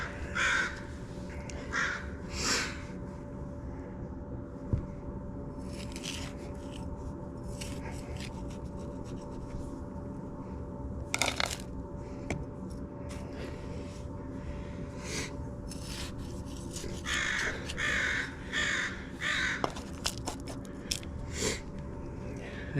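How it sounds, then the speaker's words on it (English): Crows caw outdoors in several harsh bursts spread over time, some calls repeated in quick runs, at moderate distance over a quiet, low background. "Crows are grumpy."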